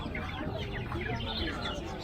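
Chickens and roosters clucking together in a busy Pallavaram pet market stall where birds are sold, a steady dense murmur of fowl calls with people talking in the background.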